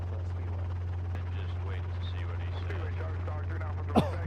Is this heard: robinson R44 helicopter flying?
yes